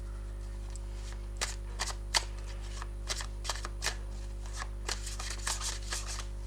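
Tarot cards are shuffled and riffled in a quiet room, giving a scatter of soft, close snaps and flutters in irregular bursts over a steady low hum.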